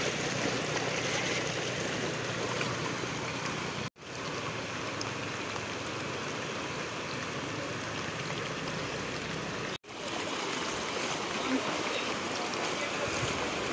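A flooded monsoon river rushes past a washed-out bridge, a broad, steady roar of churning water heard close, interrupted by two brief dropouts.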